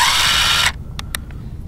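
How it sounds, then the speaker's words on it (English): A power drill drives a number 8 screw into conduit for a DIY greenhouse roll-up side, whining steadily up close for under a second before cutting off, followed by a couple of short clicks. "it'll drill through the conduit and should set normal"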